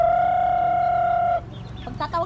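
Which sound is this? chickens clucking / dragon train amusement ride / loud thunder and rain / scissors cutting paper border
chickens clucking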